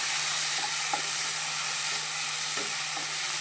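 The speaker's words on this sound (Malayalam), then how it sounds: "ഒരു രണ്ട് തക്കാളി മുറിച്ച് അതിനതിൻ്റെ കൂടെ ഇടാം" Chopped tomatoes frying in a pan for a prawn curry with mango, giving a steady close sizzle with a few soft stirring clinks over a constant low hum.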